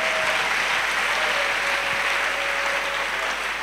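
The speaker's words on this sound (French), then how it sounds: "Clap offering." A church congregation claps together in dense, continuous applause, loud and steady for the whole stretch, with no talking over it.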